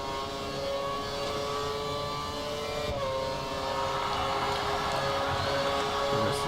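Formula 1 race car engine in the F1 2013 video game at the Italian Grand Prix, set for maximum top speed with no downforce, holding a steady high-pitched whine throughout with a slight pitch dip midway.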